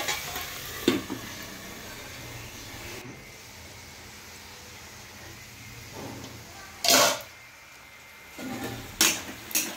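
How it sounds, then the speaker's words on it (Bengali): Food frying quietly in a pan, a soft low sizzle with a few sharp scraping stirs of a utensil scattered through, close and fairly faint. "আর একটু নাড়াচাড়া করে নিলাম।"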